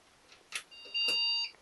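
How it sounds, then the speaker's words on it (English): A computer's BIOS gives a short electronic beep on startup of a Core i7 3770 workstation build, sounding once, clear and high-pitched, amid faint clicks and handling noises in an otherwise quiet room. "so a beep is a reasonable sign. Usually the BIOS is telling you that something's changed"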